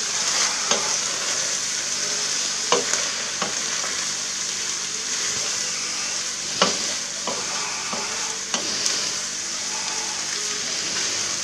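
Chicken livers fry in a pan while being stirred, a constant close sizzle broken by occasional spoon scrapes and clinks against the pan.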